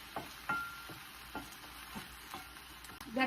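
Potatoes and green chilies fry in a pan over medium heat, a soft steady sizzle broken by several light scrapes and taps of a stirring utensil, close and quiet, with no talk.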